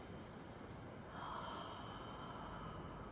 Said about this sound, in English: And do use sounded exhales